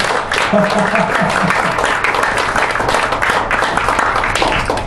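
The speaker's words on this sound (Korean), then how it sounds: "우리 세 분을 위해서 뜨거운 박수 한번 힘차게 보냅시다." Forum audience applauding three honoured guests, a loud, continuous burst of clapping from a large crowd, with a voice speaking over it at the start.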